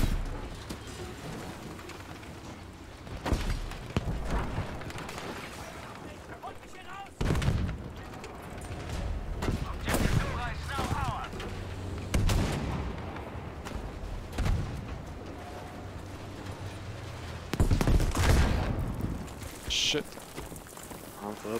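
Explosions and gunfire from an A-20 bomber attack in Battlefield V ground combat, with loud heavy blasts at intervals over continuous rumbling battle noise and scattered shots.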